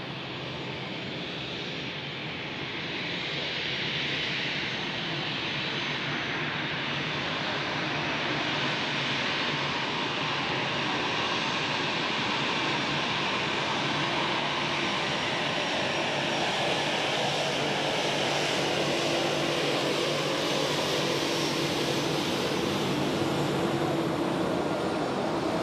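A plane at Zurich Airport in fog during the busy rush-hour period, a steady broadband engine roar that swells and stays loud over the whole stretch, with no voices.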